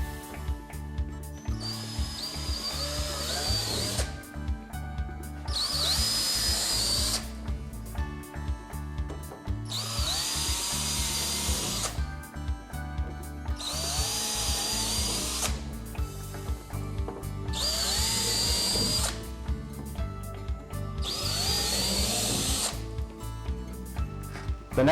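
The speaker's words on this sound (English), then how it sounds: "we need to pre-drill a 1/4 inch hole" A power drill pre-drills 1/4 inch holes for fastening to a ceiling, running in repeated bursts, about six, each a few seconds long with short pauses between, loud and close, with steady mechanical noise underneath.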